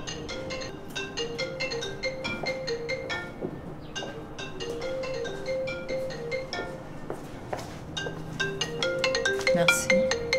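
A mobile phone rings with a bright, melodic ringtone, a repeating run of clear electronic notes that plays on steadily at moderate volume.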